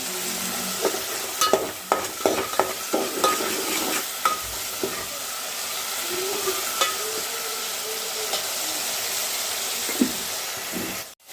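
Tomatoes with a spoon of salt sizzle in a pan under a steady frying hiss while a utensil scrapes and stirs in quick irregular strokes, then the sizzle continues alone.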